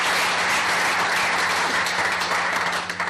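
An audience at a corporate event bursts into loud, sustained applause, dense clapping filling the room and staying steady before easing slightly at the end.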